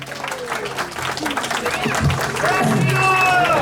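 A crowd of devotees at a Ram Lalla temple gathering claps in steady applause, with voices and other activity mixed in and the clapping swelling a little louder in the latter half.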